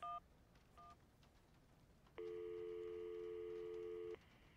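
An old telephone being dialed in the video game Syberia: brief tones, then a steady, loud ringback-style tone held for about two seconds, with no talking.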